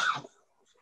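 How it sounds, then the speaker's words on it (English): A single short cough or throat clear, quiet and close, followed by near silence. "It's my fault. I was coughing."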